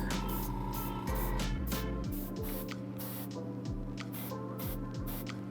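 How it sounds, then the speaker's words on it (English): An airbrush sprays paint onto a Batman Begins premium format figure in repeated short hissing bursts, each with a sharp airy onset, close and alone over a steady background hum. "it's just softer to do with an airbrush"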